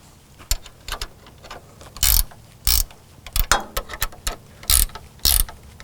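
The leg mechanism of a Wedgetail camper trailer is released with a series of sharp metallic clicks and clunks, some single and some in quick pairs, close and loud against a quiet background.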